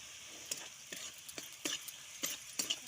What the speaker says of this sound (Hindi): कटा हेतिबा लंका को मिक्स करिबा।